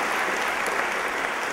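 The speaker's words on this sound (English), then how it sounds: "So give Joe Allen Darcy and the Army Corps of Engineers also a round of applause." An audience applauds at an outdoor-initiative event at Occidental College, a dense, steady wash of clapping from many hands, loud and continuous.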